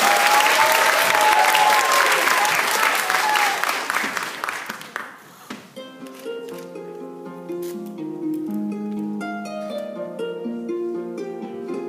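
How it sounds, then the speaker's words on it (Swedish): A school audience applauds a dance group with loud, dense clapping for about five seconds. The applause fades as music starts and continues on its own. "En enorm applåd åt dem."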